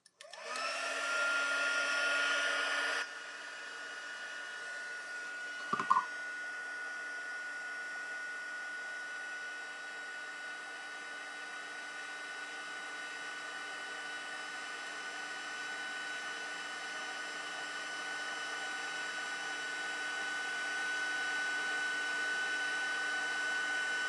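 An embossing heat tool blows hot air over embossing powder, a steady close whir that drops in level after a few seconds, with a brief clatter midway, then continues evenly.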